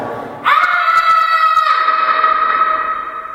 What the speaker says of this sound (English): the first thing he told me to do was scream